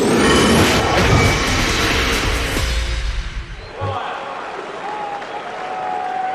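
A large crowd at a 2003 Super 12 rugby match in a packed stadium roars loudly and steadily, then thins out into a quieter background murmur partway through.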